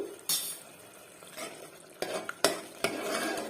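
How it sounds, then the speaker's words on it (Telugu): A spoon stirs chili powder into a spinach and egg curry in a cooking pot, giving a handful of sharp metallic scrapes and clinks between softer stirring and a faint sizzle. There is no talking. "కారం పొడి వేసి కలిపేసుకొని"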